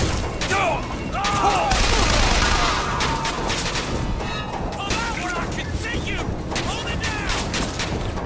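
Rapid gunfire crackles through a firefight in the video game Bioshock Infinite, dense bursts and single shots layered with shouting voices and clattering impacts, loud and continuous throughout.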